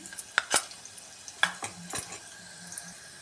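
Green chilies and turmeric powder fry in hot oil in a pan, a faint sizzle under a few sharp clinks and scrapes of a spoon stirring, close and without talk.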